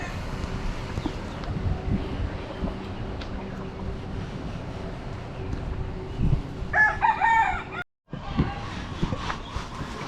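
Chickens cluck and a rooster crows at a feeding spot, with loud crowing calls over steady clucking and background noise, and a brief pause near the end. Voices can be heard at times.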